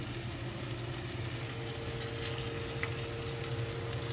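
Oliebollen, Dutch doughnuts, frying in grease that is running too hot, a steady, quiet bubbling sizzle with a constant low hum underneath and no voices.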